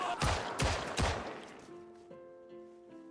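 A zombie fires a gun in the zombie-survival game Project Zomboid: three loud, evenly spaced shots ring out close by, then fade into a quiet tonal hum.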